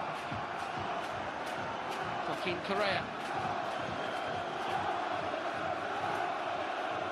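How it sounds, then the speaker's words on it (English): Home crowd at a Leicester versus Sevilla football match roaring steadily throughout, a broad distant wall of chanting and cheering with a brief swell in the middle, and a commentator talking over it. "Come on, Leicester, the cry from the home crowd."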